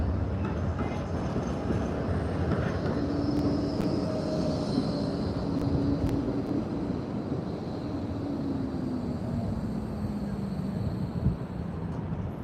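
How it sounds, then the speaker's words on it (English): A tram rumbles past nearby in Blackpool, its low mechanical hum and wheel noise swelling and fading over steady street background noise. "There's a tram coming."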